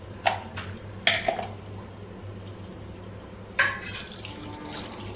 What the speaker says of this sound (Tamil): தேவையான அளவு தண்ணி தண்ணி சேர்த்து